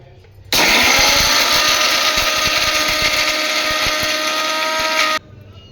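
An electric mixer grinder dry-grinds coconut chutney ingredients with salt, starting abruptly into a loud, steady whirring roar with a rattling jar, running for several seconds before cutting off sharply.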